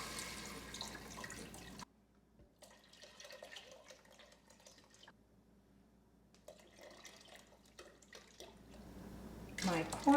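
Three quarts of beef broth poured into a soup pot for Mexican meatball soup, giving a steady liquid splashing and trickling that runs for several seconds, with faint kitchen clatter and a louder clunk at the end.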